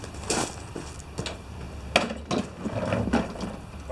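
The blade is being taken off a Briggs lawn mower, with scattered metallic clanks, taps and ratcheting clicks of tools at close range, irregular and fairly quiet.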